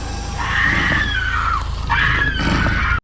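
A woman's high, sustained scream in a TV episode of Buffy the Vampire Slayer, two long shrill wails in a row, loud and close, with noisy background under them.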